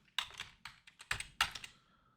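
Keystrokes on a computer keyboard, a handful of quick, sharp taps clustered in short bursts with brief pauses between them, close and moderately loud with no talking.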